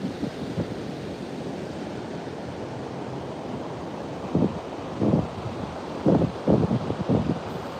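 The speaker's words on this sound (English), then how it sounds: "Really nice cool breeze, not too hot." A cool breeze blows across a Southern California beach, steady wind rushing against the microphone with surf behind it and a few louder gusts near the end, no voices.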